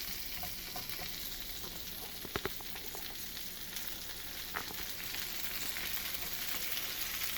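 Edamame soybeans fry in butter in a pan for a spicy dish, giving a soft, steady sizzle with a few sharp pops and clicks and no talking.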